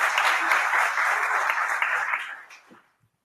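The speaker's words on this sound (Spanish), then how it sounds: "lo recibimos con un aplauso" Audience applause welcoming a speaker at a talk on brand image, a dense wash of clapping from the start that holds steady, then thins and dies away near the end.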